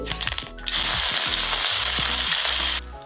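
Cumin seeds and chili hitting hot oil for a fasting-style misal, a loud, close, steady sizzle that bursts in after a brief softer start and holds for over two seconds before cutting off.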